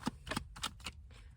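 Cards are riffled and shuffled up close in a few quick, crisp bursts, fairly quiet with no talking.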